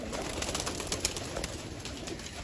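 Performance pigeons kept by a rooftop fancier coo softly amid faint rustling and low background noise, quiet and somewhat distant.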